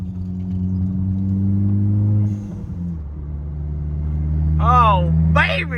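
A car engine runs close by with a steady low rumble, easing slightly midway before settling into a smooth idle, while a voice speaks briefly near the end.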